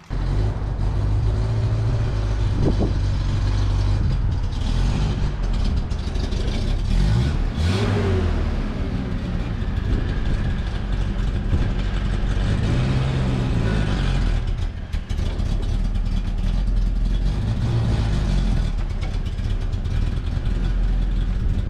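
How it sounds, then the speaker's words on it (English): The engine of a 1981 Ford Courier pickup truck with a faulty carburetor runs loud and steady as the truck backs out, with low rumbling and occasional rises in revs over about twenty seconds. "Let's top off this radiator and let's see if it'll back outside."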